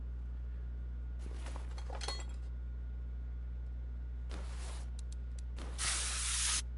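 WD-40 is sprayed onto a rusty bolt in a few close hissing bursts, with quiet gaps between them and a steady low hum in the background.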